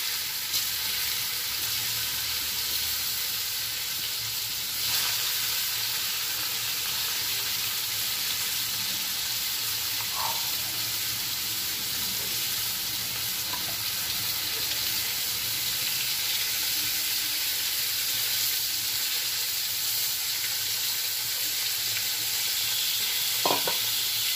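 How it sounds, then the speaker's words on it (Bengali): Okra curry frying in a pan gives a steady, close hiss and sizzle that holds through the whole stretch, with no talk. "আর ঢেঁড়সের তরকারি করব। ঢেঁড়সের তরকারি শুধু ঢেঁড়স করব, আলু টালু দেবো না, শুধু এমনি ঢেঁড়স করবো।"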